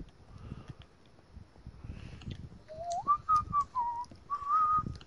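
Someone whistles a short melodic tune on a farm, the clear notes rising and wavering over low background rumble and faint knocks.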